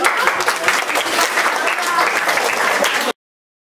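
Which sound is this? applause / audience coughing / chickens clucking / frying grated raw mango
applause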